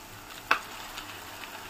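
Diced potatoes tipped into a pan of cooking tomatoes, giving one brief sharp clatter and hiss, then a soft steady sizzle that carries on quietly underneath.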